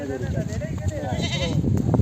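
A goat bleats in wavering, nasal cries close by at a busy goat market in Harike Kalan, Punjab, while people talk and bargain over it in the background.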